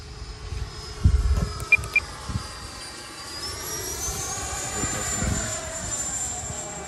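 FMS Futura v3 RC sport jet with an electric ducted fan, flying at a distance with a steady whining roar that shifts in pitch as it passes, after a few brief bumps near the microphone.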